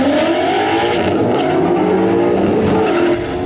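A drag race car launches hard with its tires smoking, a loud, close engine roar blended with sustained tire squeal that holds steady for several seconds.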